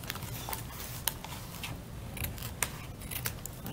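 Scissors snip through a plastic book cover with sharp, soft clicks, spaced irregularly over steady faint background hiss, with no voices.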